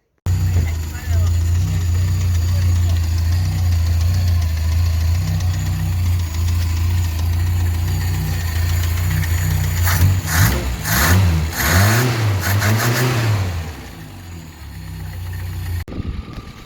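Barn find Volkswagen Passat engine running rough, a loud steady idle throbbing close by, then uneven revving surges and stumbles before it dies away and briefly catches again, with someone talking over it.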